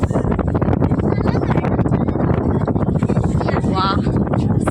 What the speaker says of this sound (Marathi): छान मस्त असं वारा येतोय